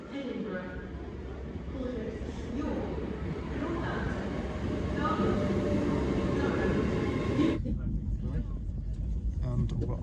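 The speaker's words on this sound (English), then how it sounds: "Train's just pulling out now." A train pulls away from Newcastle station on a service toward Edinburgh, a steady low rumble and rolling rail noise building slightly, with onboard chatter and a voice talking throughout.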